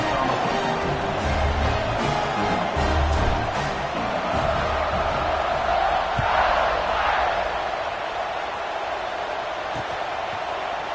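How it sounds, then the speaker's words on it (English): A big stadium crowd at a Notre Dame versus Michigan State college football game roars steadily, swelling into louder cheers and yells, while a commentator talks over it. "You think this crowd's going to get loud when their defense comes on the field?"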